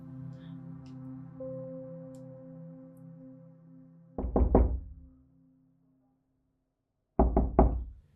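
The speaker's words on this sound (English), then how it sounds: "You hear a knock at your door." A quiet low hum fades out, then a close, loud triple knock on a wooden door, a pause, and another firm three-knock burst.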